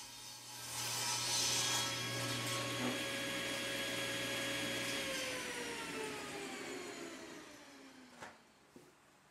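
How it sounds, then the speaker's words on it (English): A table saw cuts wood on a crosscut sled for a prairie-style sconce, its steady motor whine and cutting noise running loud and close for most of the clip before spinning down at the end. "I cut it to length on a crosscut sled at the table saw."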